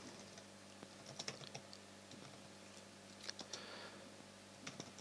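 Typing on a computer keyboard, with soft irregular key taps in short clusters, close but quiet over faint room hum, with no voices.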